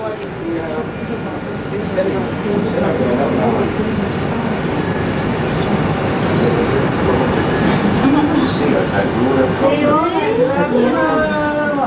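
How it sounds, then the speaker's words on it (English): A train rumbles past close by in Guilin, China, in 1990, with continuous rattling and clatter, wheels squealing toward the end, while people talk over it. "There goes the train to Beijing."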